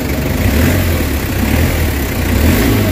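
A Nissan Vanette van engine with a throttle delay and low-power fault, revving loud and close in a steady sustained drone, alone with no talk.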